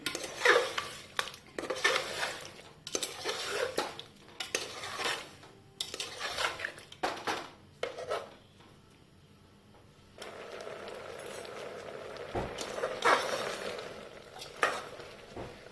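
A pan on a lit stove as jaggery melts, with steady scraping and stirring against the metal, clattering spoon hits, and a soft sizzle underneath, close and fairly loud throughout.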